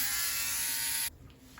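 A Philips Norelco OneBlade electric shaver buzzes steadily at close range as it goes over missed spots, then cuts off abruptly after about a second, leaving quiet room tone.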